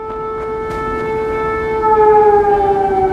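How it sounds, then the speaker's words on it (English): A civil defense siren wailing in Fallout 4 with the Sim Settlements 2 mod, a loud sustained tone with harmonics that slowly drops in pitch and swells slightly louder midway, heard alone. "what is this siren?"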